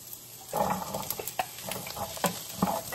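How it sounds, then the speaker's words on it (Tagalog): String beans (sitaw) tipped into a pan with eggs and Spam, a close rustling clatter and stirring over a light sizzle, with several soft knocks. "Tapos, isunod natin ang sitaw."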